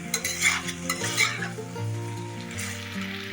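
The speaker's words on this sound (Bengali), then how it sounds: "মাংসটা বেশ ভালো করে কষিয়ে নিয়েছি আর মাংস থেকে তেলও ছেড়ে দিয়েছি আবার আমি মাংসটা নাড়িয়ে নিচ্ছি" Chicken pieces being stirred as they fry in oil in a home kitchen pan, with a steady close sizzle and repeated scraping stirs of a utensil against the pan throughout.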